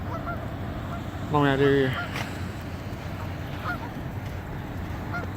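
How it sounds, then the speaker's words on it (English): Geese honk in a short burst of several calls beside a flooded river in Charleston, West Virginia, set against steady low outdoor rumble, with a brief spoken phrase nearby. "So, see all kinds of geese down here."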